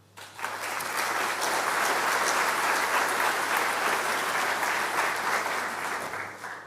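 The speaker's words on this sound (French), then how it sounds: "Je crois qu'on peut les applaudir." A conference audience at a French planning federation meeting breaks into loud, dense applause that swells within the first half second and stays steady for about six seconds before easing at the end.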